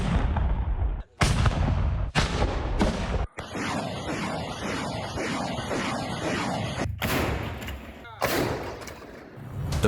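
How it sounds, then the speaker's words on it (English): Battlefield mortar and artillery fire during the Kharkiv counteroffensive near Balaklia: a series of loud, sharp blasts with deep booming tails, some in quick succession, followed by a long rumbling roar. "Mortar."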